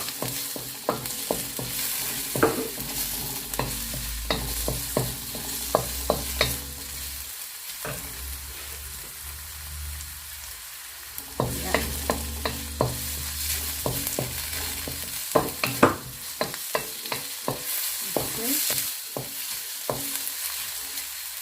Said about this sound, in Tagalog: So we will put now the garlic.